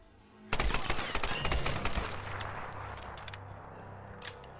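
Gunfire in a Tomb Raider video game: a sudden loud burst of rapid shots fired in quick succession, then a trailing echo and rumble dying away, with no talking.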